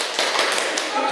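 A brief burst of applause for Mas Ulul at the end of an internship, dense clapping lasting about a second, close and fairly loud.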